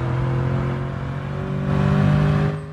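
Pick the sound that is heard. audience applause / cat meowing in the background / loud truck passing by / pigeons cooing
loud truck passing by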